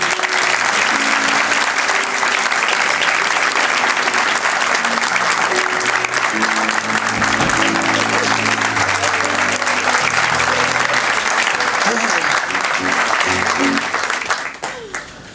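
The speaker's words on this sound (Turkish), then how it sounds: "Alkışlayalım bakalım." Sustained, loud studio audience applause on a Turkish comedy stage show, a dense crowd of clapping filling the whole stretch with faint low voices and music tones beneath, tapering off at the very end.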